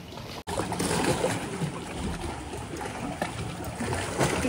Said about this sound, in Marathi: आता मी थोड्या लाटांच्या एरियामध्ये आलोय. इकडे लाटा येतात